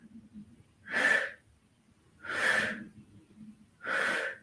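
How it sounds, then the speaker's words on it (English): Three strong, audible breaths taken during a seated yoga twist, spaced evenly about a second and a half apart, close and breathy against near silence. "either just staying here, enjoying this range of motion, or 10 breaths"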